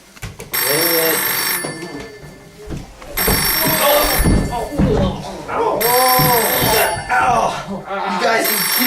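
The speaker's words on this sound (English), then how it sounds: "Somebody get the phone." A telephone bell rings in three loud bursts separated by short gaps, with voices talking over and between the rings.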